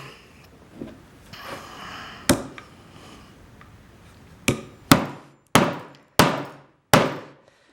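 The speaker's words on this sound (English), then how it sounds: "You just hammer them in" T-nuts hammered into a wooden arcade control panel, a few scattered taps followed by a run of five sharp, evenly spaced hammer blows, close and loud.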